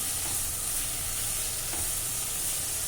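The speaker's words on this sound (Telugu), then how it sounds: "ఇట్లా వేయించండి బాగా వేగాల్సిన కూర" Green chilli curry frying in a pan with chilli powder, salt and spices, a steady dense sizzle with soft stirring scrapes, close and continuous with no talk.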